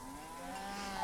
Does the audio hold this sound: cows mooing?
yes